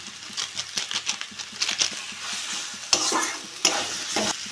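Banana flower curry with prawns sizzles steadily in a pan while it is stirred, with close, irregular scraping and clattering strokes over the constant frying hiss.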